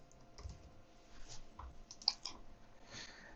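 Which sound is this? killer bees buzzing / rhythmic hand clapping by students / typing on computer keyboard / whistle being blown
typing on computer keyboard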